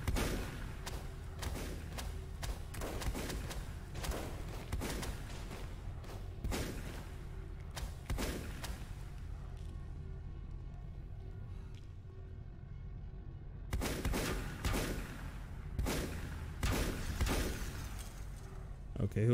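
A turret fires in Volcanoids in repeated sharp bursts of shots and impacts, loud and close, with a quieter lull midway before the shooting resumes, and a voice talks over it.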